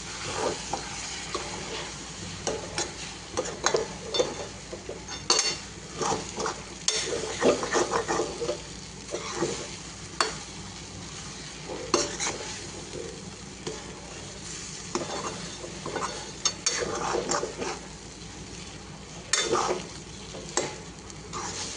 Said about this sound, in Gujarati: થોડીક છાશ એડ કરીશું અને ધીરે ધીરે એને મિક્સ કરતા રહીશું